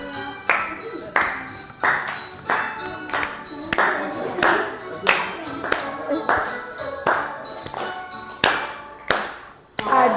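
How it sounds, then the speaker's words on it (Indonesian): A classroom of students claps hands in rhythm while singing together, sharp claps landing roughly every half second to a second over about ten seconds, mixed with singing voices. "Tepuk tangan ya."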